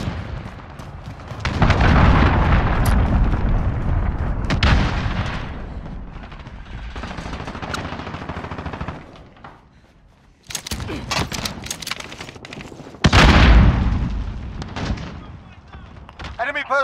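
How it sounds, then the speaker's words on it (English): Cruise missile strike in Call of Duty Modern Warfare: heavy rumbling explosions and sustained gunfire roll on loud and close, dip to near silence, then erupt again with sharp blasts, while voices speak over the din. "Enemy cruise missile incoming."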